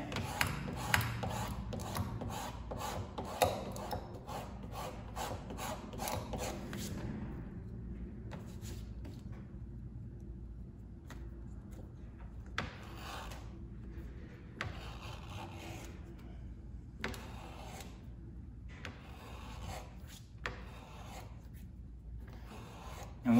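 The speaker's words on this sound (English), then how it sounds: "And once you get to your ends, you want to just slightly bevel that out, skive a little bit more." Leather being skived with a blade while dressing a saddle horn, a steady rasping scrape that repeats in close strokes, denser at first and then thinning into lighter intermittent passes.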